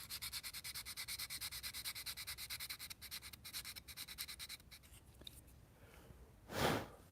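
Sanding of a styrene center console part for a Corvair, a steady rhythmic rasp of repeated close strokes that thins out near the end before a brief louder rub.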